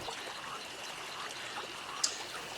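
Water streams and trickles steadily in the survival game 7 Days to Die, a continuous close hiss of flowing liquid with one brief sharp click near the end and no speech.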